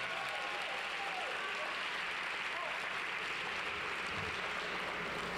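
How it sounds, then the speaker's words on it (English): Sustained audience applause at a 2018 summer DC public charter school graduation ceremony, a dense steady wash of clapping from a large crowd that carries on evenly without a break. "Let's give her another round of applause."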